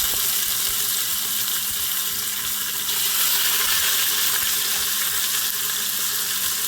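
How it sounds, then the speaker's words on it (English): Goat meat hits a hot pot with coconut oil and garlic, giving a loud, steady hissing sizzle that fills the whole stretch, close and continuous with slight surges, no voices over it. "Just pour the goat meat in the pot."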